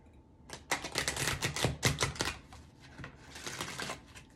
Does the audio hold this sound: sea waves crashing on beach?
no